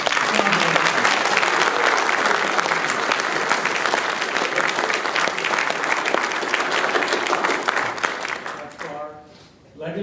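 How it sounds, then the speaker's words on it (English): An audience at a Scout troop Eagle Court of Honor applauds loudly and steadily for about nine seconds, the clapping fading out near the end. "Let's give Ryan just a large round of applause."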